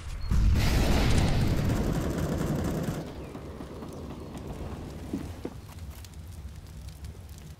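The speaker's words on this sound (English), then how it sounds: "Throwing a flashbang!" A flashbang grenade detonates in Counter-Strike with a loud, broad burst that holds for a couple of seconds, then sinks into a long, softer ringing wash of noise.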